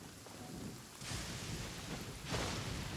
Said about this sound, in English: did lightning hit you?